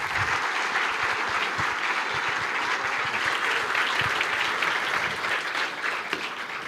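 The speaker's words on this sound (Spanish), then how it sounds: "Y esta es la parte que aplaude" A conference audience at a cybersecurity talk gives dense, continuous applause, loud and evenly sustained from start to finish with no speech over it.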